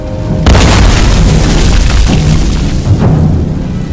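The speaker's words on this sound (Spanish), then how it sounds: "Robert Kane lanza una granada de mano, pero la lanza hacia arriba, golpea una viga y rebota hacia él" A hand grenade explodes during a Second World War battle in Holland: a sudden loud boom about half a second in, followed by a sustained roaring rumble that stays heavy to the end.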